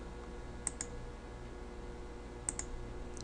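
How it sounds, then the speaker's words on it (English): A computer mouse button clicks sharply twice in quick succession, then after a pause clicks twice again, with a faint fifth click at the end. The clicks are close and quiet against a low electrical hum. "here press right button and click"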